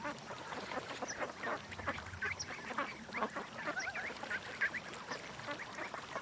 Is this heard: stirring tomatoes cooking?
no